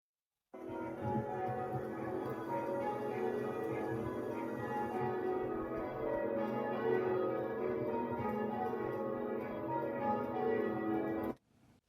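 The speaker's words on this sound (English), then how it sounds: "I will just try and play the Eglosale bells that I was going to have on the beginning of the podcast" Eglosale church bells play back as a recording: a continuous, layered peal of ringing bells that holds steady for about eleven seconds before cutting off abruptly.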